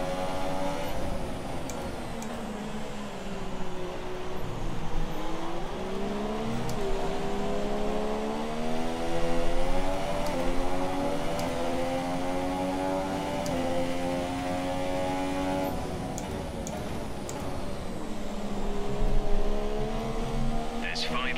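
Race car engine in a racing video game on a Canadian circuit, droning steadily with rising and falling pitch sweeps as it accelerates and shifts, with a commentator talking over it throughout.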